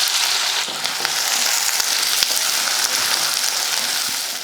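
Small shallots, garlic and curry leaves fry with mustard seeds and fenugreek in coconut oil for a fish curry, giving a loud, close, steady sizzle dotted with sharp pops and crackles.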